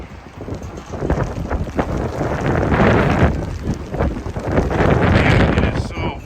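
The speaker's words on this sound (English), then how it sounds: "Man, it is so windy right now." Strong gusts buffet the microphone aboard a sailboat, a loud roaring rush that swells and surges unevenly throughout, with no clear speech above it.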